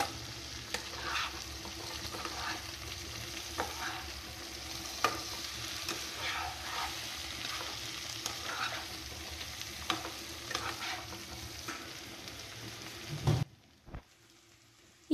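Raw jackfruit frying and being stirred in a pan, a dense continuous sizzle with frequent spatula scrapes that stops abruptly near the end, leaving near silence with a couple of faint knocks.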